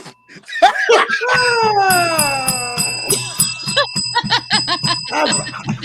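A handheld bell is rung over and over in a quick, uneven series of bright, ringing dings that overlap and fade, with faint laughter between some strikes.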